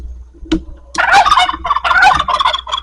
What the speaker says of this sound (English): Look at these silly turkeys.